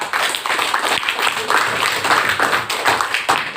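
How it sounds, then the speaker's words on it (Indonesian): Fifth-grade pupils in an Indonesian classroom clap for a classmate, a burst of many small hands in quick, uneven rhythm, close and lively, lasting a few seconds. "Tepuk tangan buat Alfa."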